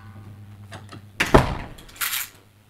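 An apartment door swings shut with a solid thump, followed moments later by a brief whirring click as a smart lock automatically engages, both close and fairly loud in a quiet room.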